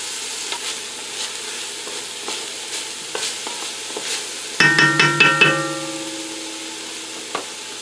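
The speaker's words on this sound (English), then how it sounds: "I'm going to add my garlic. I'm going to let these cook a little bit before I add the meat." Garlic sautéing in a pan while cooking pork menudo: a soft, steady sizzle with light scrapes of stirring, then a brief cluster of sharp metallic clinks and taps against the pan.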